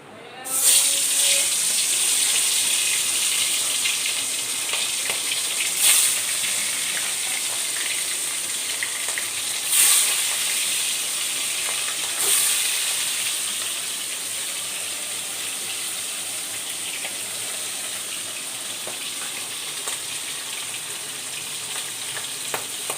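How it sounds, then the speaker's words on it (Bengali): Fish frying in hot oil in a home kitchen, a loud continuous hissing sizzle with a few sharper bursts and occasional stirring, steady for the whole stretch. "মাছটা ভেজে নেব"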